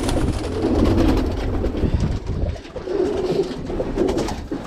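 Birmingham Roller pigeons coo in soft, repeated low rumbling phrases close by, with a steady background hum and no talking.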